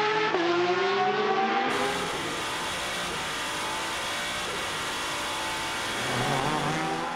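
FIA WEC endurance prototypes from Rebellion and Toyota racing past, engines screaming at high revs with a sharp Doppler sweep of one car passing close, followed by a dense blended roar of the pack.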